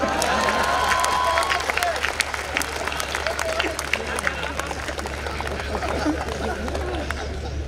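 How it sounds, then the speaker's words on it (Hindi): An audience at a Hindi comedy performance claps in a sustained wash of applause and crowd noise, with voices talking over it throughout. "अब आपकी तालियां उठेंगी"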